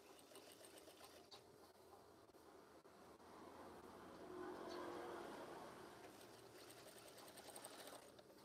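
A sewing machine runs steadily, stitching soft fabric for a curtain, a faint continuous whirring hum that swells slightly in the middle before settling back.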